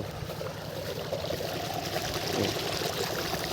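Irrigation water streams and pours steadily into a rice paddy, a close, continuous rushing gurgle with no pauses and no voices heard.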